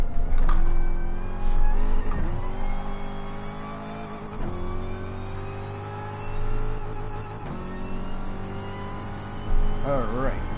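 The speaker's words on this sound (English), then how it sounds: "Redlining a little bit there through the gears." A Corvette C7 engine in GT Sport revs up toward redline through successive gear changes, its rising whine repeatedly dropping and climbing again, with brief tire squeal, while someone talks over it.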